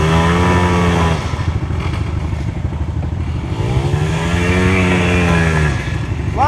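A 110cc dirt bike engine riding woodland trails, loud and close, droning steadily with rising and falling revs as gears shift.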